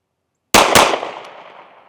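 Two sharp, loud gunshots from a Smith & Wesson pistol at a shooting range, fired in quick succession about a quarter second apart, each with a long echoing tail that fades out.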